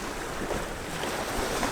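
Ocean waves rush in beneath the bottom of a rocky cape on Prince Edward Island, a steady loud wash of water mixed with wind buffeting the microphone and no talk.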